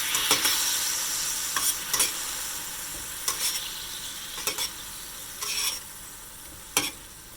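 Food frying in a hot pan with soy sauce while the heat is off, a steady close sizzle broken by repeated scraping stirs at irregular intervals, with no voices.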